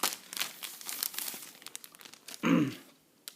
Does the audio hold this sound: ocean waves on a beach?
no